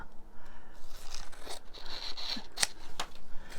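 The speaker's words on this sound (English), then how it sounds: "I am still using these scissors" Scissors snip through paper close up in a few crisp, scraping cuts with a sharp click near the end, no talking.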